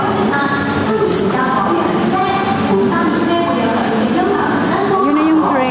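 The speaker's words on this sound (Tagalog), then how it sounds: "Ayun na yung train oh." The Ocean Express train at Hong Kong Ocean Park rumbles steadily as it pulls in and moves off, a loud continuous rolling drone with faint squeals and hum, while people chat nearby.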